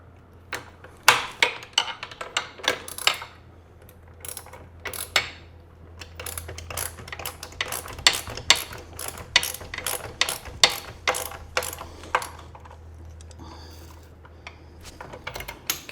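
Ratchet wrench tightening bolts on a Dillon RL1100 reloading press, a long series of close, crisp metallic clicks in uneven bursts over a low steady hum.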